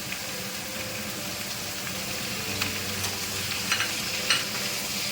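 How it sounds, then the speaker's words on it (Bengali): Potato and eggplant pieces frying in oil with turmeric and salt for a Bengali curry, making a continuous close sizzle with a few light clicks of stirring, steady and moderately loud, without speech. "হলদি আর লবণ দিয়ে অল্প ভেজে নেব।"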